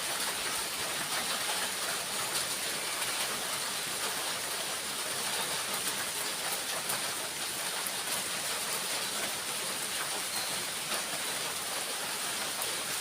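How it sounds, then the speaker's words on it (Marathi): A sudden heavy downpour on a roadside, heard from under a shed, as a dense, continuous roar of rain with no let-up. "पाऊस बघा किती पडतोय"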